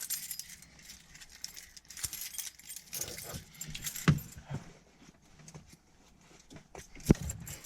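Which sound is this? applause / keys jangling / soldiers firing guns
keys jangling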